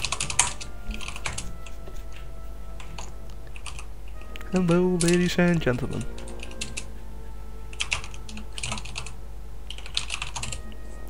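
Fingers type on a computer keyboard in quick, irregular bursts of close clicks, with a brief spoken greeting in the middle before the tapping resumes.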